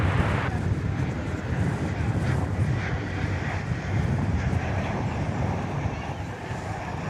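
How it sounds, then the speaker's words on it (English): An American Airlines Boeing 737-800 arriving at DFW Airport makes a steady, broad roar with a wind-like rush that holds fairly loud throughout and eases slightly toward the end. "Here comes American Flight 163, a 737-800."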